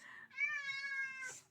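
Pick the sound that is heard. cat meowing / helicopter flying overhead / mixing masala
cat meowing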